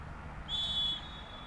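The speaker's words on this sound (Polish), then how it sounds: "czekamy na ten pierwszy gwizdek arbitra tego spotkania" A single short, shrill referee's whistle blast starting a match sounds over faint background crowd noise.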